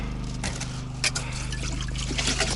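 River water trickles and pours steadily outdoors while moose is cooked, a close, continuous splashing stream over a low droning hum, with no talking.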